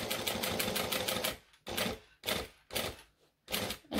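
A sewing machine stitches a Mia wallet, a fast mechanical chatter that stops and restarts in short bursts as the work is turned, close and fairly quiet.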